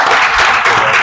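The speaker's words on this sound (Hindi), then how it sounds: "तो ताली तो बजा दो।" Audience clapping at a women's empowerment seminar in Modinagar, a short, loud, dense burst of applause filling the whole moment.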